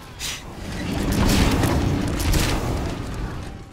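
Sentry guns in Team Fortress 2 unleash a rolling barrage of booming fire and blasts, building to a loud dense rumble that swells and lingers across the stretch, with sharp bursts on top.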